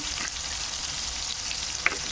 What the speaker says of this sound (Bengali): দিয়ে আলুটাকে একটু ভেজে নেবো।